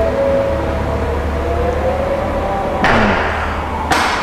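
Ford Everest Sport 4X2 power tailgate closing, a steady motor whine with descending tone under constant background hum, ending in a firm thud near three seconds and a second sharp latch knock just before four seconds.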